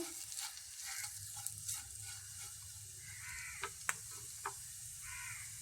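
Chillies being stirred as they fry in a pan, a soft continuous sizzle with scattered scraping and light clicks of the spoon, fairly quiet and steady with no voices.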